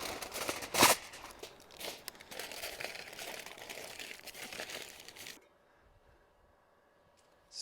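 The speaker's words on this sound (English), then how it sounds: "Just a roast beef and Swiss, so put that in some tin foil" Tin foil crinkles and crumples continuously around a roast beef and Swiss sandwich while camping at the Grand Canyon, with a sharp crunch near the start, before the handling stops and near silence follows.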